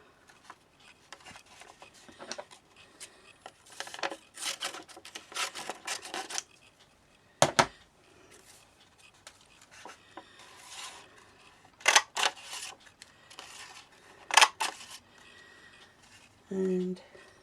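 Craft paper punch snapping through one or two sheets of paper to cut ovals, rectangles and tag shapes, giving a few sharp separate clacks among soft paper rustling and handling noises, with a person talking over parts of it.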